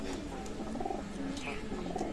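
Teddy pigeons of Oman bloodline cooing softly in a loft, faint low rolling coos repeating over light background noise.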